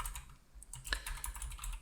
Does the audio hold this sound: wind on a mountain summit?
no